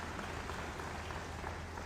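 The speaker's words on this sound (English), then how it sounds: "And while you're clapping, give it up for our fire department as well." An audience at a city State of the City address in Warner Robins applauds in a steady, dense wash of clapping with no pause.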